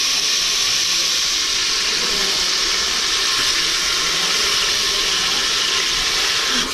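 Washed moong dal hits a pan of tomatoes and sizzles loudly, a dense steady hiss of frying that holds at the same level throughout with no talk over it.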